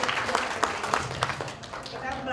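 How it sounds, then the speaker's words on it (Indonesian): Audience applause at an Indonesian televised debate on stock markets and presidential candidates, a moderate, steady patter of clapping heard under ongoing talk. "Mohon tepuk tangannya."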